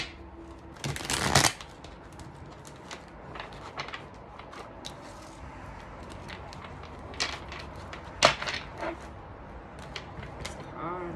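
Thick tarot cards being shuffled, with a loud riffling burst near the start and another near the end, separated by softer intermittent card handling and small taps in a quiet room.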